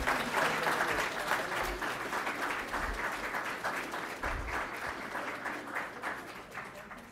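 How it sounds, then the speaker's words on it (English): Audience at a climate and national security forum applauding panelists, a steady sustained round of clapping from a sizable crowd that holds for about seven seconds and tapers slightly, with no speech over it. "Can we have one more round of applause?"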